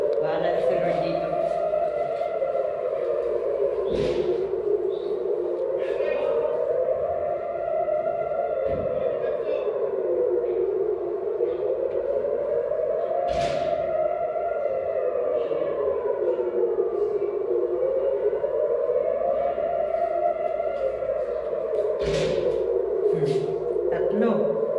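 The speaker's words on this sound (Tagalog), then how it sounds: "Inabot ako ng sirena sa daan." A civil defense air raid siren wails during war in Israel, its tone rising and falling in slow steady cycles, loud and echoing outdoors along a road, with occasional nearby bumps and a voice.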